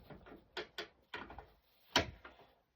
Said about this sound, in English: you lift the armrest up